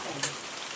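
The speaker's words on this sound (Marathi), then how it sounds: "बघा झाला, सुरू झालाय पाऊस" Unseasonal rain begins falling in a village, a steady, even hiss of drops on surfaces with one brief louder patter, fairly close and without voices.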